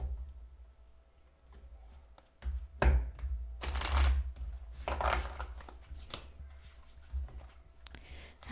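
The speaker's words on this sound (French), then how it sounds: "je vais vous tirer une carte de l'archange Michael" Oracle cards of Archangel Michael being shuffled by hand in a quiet room, giving soft papery riffles and flicks in several bursts with faint taps between them, no voice present.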